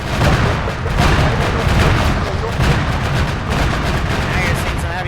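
Heavy gunfire and artillery in Arma 3 during a Zeus scenario: dense, continuous booming and rattling shots, loud and layered throughout.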